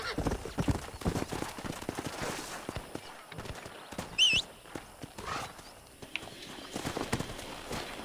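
Horse hooves clip-clop in Red Dead Redemption, a steady rhythm of soft thuds that runs through most of the stretch, with a brief whinny partway in and faint game ambience behind it.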